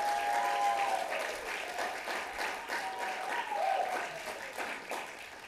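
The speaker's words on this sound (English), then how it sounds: "Can everybody applaud for Shizue one more time?" An audience at the San Francisco Public Library applauds steadily for several seconds, a dense patter of clapping at moderate volume with a faint tone sliding underneath.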